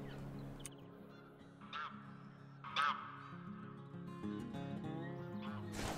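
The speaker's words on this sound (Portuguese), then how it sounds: "Vamos ali pegar o ganso." Goose honking in a hunting video game, a few separate honks rising over a steady ambient bed of game sound, moderately close and alone without talk.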